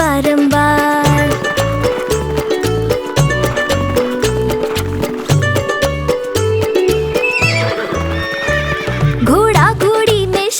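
Steady rhythmic horse hooves clip-clopping under a bouncy Hindi children's rhyme with music and singing, with a horse neigh and whinny rising near the end, loud and up front.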